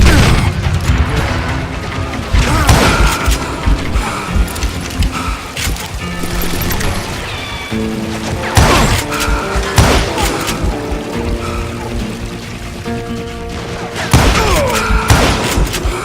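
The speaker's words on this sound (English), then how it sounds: "I saw Henry Plummer throw dynamite at me" Dynamite explodes in the Western shooter Call of Juarez Gunslinger: several loud booming blasts land a few seconds apart over busy game noise and music.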